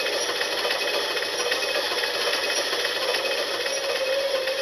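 Steady mechanical buzzing of sawing in The Simpsons video game, a continuous dense whirring grind that holds at an even level throughout with no pauses and no talk.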